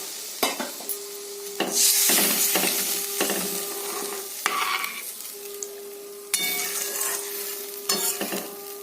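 Water is poured into a pan of fish curry masala being fried for a thin hilsa jhol with green banana and potato, setting off loud bursts of hissing sizzle, intermittent clattering and stirring, and a sharp fresh surge near the end.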